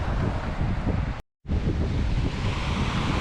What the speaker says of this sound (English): I love the noise, the way the pebbles and stuff are rolling with the water and the waves.